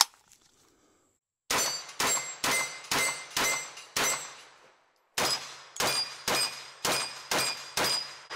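A Kalashnikov KP-9 pistol fires two strings of about six rapid shots each at steel plate racks outdoors, with every shot followed by a sharp ringing clang of metal. A short pause separates the two strings, and no one talks.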